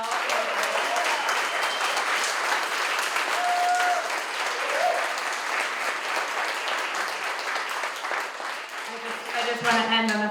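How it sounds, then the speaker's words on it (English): A gathered audience at an artists' talks event claps in a loud, sustained round of applause that tapers slightly near the end, where a voice begins speaking over it. "How about another big round of applause for all of you?"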